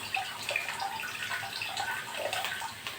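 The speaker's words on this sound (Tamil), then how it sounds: "நல்லா தண்ணி வடிகட்டிக்கணும்." Soaked rice flakes are drained, and water splashes and trickles steadily close by, with a soft dripping patter and no talking.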